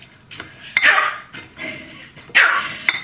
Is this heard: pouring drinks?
no